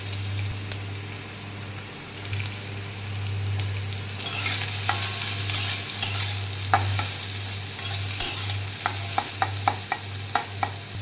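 Pumpkin pieces fry in a little oil over mustard seed and dried red chilli tempering, a steady loud sizzle with repeated scraping stirs that sharpen into clicks toward the end, no talking.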